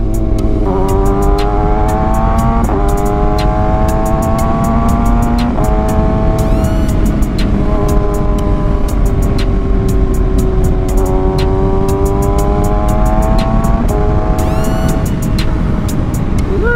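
A 2025 Kawasaki Z900 motorcycle accelerates hard through quick-shifted gears, its engine note climbing steadily in pitch then dropping abruptly at each shift, repeated several times, close and loud over strong wind rush.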